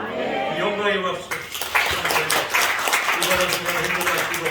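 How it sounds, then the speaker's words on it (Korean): A Korean Sunday church congregation breaks into clapping after chanted hallelujahs. Crisp claps build through the second half, mixed with voices and some musical tone running underneath. "영광의 박수."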